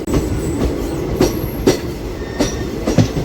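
A DEMU local train runs on rails between Kurnool and Guntakal, with a steady loud rumble and rhythmic wheel clacks recurring every half second or so, heard close from aboard.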